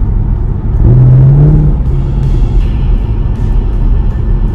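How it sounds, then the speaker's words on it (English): A Chevy SS fitted with aftermarket headers on a test drive: a loud, close engine drone swells as it accelerates, then settles into a steady cabin rumble. "let's go for a test drive, see if that rattle comes back"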